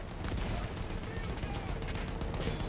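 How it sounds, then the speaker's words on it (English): Sustained machine gun fire crackles steadily in a Battlefield 1 World War I battle, dense and continuous with a busy layered rumble of combat throughout. "Those machine guns are holding our lads back."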